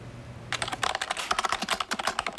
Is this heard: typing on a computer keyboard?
yes